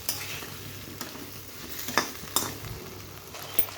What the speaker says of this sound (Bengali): একসঙ্গে আদা বাটাটা আলুটা একসঙ্গে ভাজতে হবে।